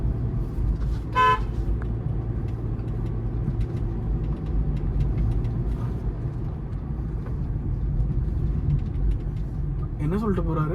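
Short horn toots from a Honda City driving through rain on a road shared with bikes, a brief honk early and another near the end over a constant low road and engine rumble, with voices talking inside the car.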